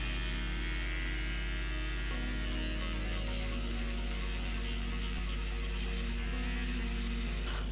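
A Flawless facial epilator runs continuously, giving a steady close mechanical whirring buzz with a faint ratcheting texture. Its motor tone shifts slightly after the first couple of seconds. No one speaks.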